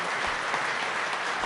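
Audience in a room at a Rochester chamber of commerce awards presentation applauding a race sponsor, with steady dense clapping held at an even level for the whole stretch and no voices on top.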